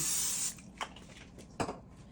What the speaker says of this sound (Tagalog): Spray, original canola oil blend.